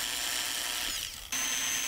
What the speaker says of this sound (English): take a drill and drill through the clear plastic so that we didn't have access to the holes